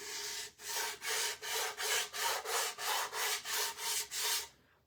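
A handheld imitation gator sander is rubbed back and forth over rough wood to smooth it, making about a dozen evenly spaced, loud, close rasping strokes in a steady rhythm before stopping.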